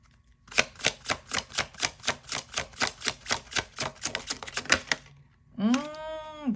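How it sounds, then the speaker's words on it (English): A deck of brand-new tarot cards is riffle-shuffled in a fast, even run of about twenty crisp flicking snaps lasting several seconds, then a short sweeping whoosh as the cards are bridged together. "These shuffle real nice, being so new."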